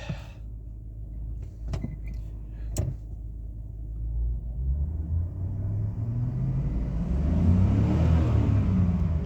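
A 2006 Chevy Tahoe Police Interceptor engine starts and idles with a low rumble, with a couple of sharp clicks early on. The revs then climb steadily into a louder, rising drone close by.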